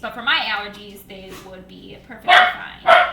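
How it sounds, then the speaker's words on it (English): Indoor dogs bark in loud, close bursts, two sharp ones near the end, while someone talks through the clip. "Sorry about my dogs again."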